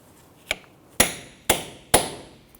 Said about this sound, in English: you can use a punch, and you want to go ahead and dimple the axle nut into that notch there